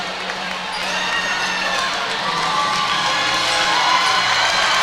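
A packed gym crowd cheers and roars continuously at a Class 2A Region 5 final volleyball match against South Hardin in 2023, a dense, steady wall of shouting and cheering that swells slightly throughout.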